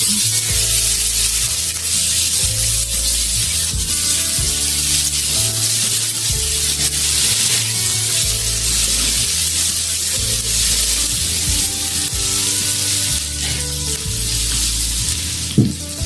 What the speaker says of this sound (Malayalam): ഉലുവയും കടുകും പൊക്കി ചേർക്കുമ്പോൾ തന്നെ ഇരുപത് ചെറിയ ചെറിയുള്ളി ചെറുതായി കട്ട് ചെയ്ത്